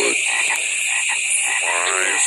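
A frog croaks in a commercial logo jingle, sounding loud and close, with steady high-pitched chirping in the background and a rippling croak near the end.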